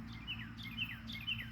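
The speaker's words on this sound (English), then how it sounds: "That bird sing." A bird sings a repeated series of bright chirping phrases during an evening garden stroll among irises, roses and honeysuckle, moderately near over a steady low hum.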